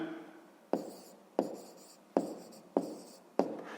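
Pen strokes on paper while writing a mass answer for a fifth-grade maths exercise, five sharp, evenly spaced taps, each trailing into a soft scratch, fairly close and alone with no talk.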